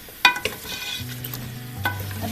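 Masala for aloo gosht frying in cooking oil: a spoon clatters against the pan near the start, then a steady sizzle with a low hum continues, fairly close, with no talking.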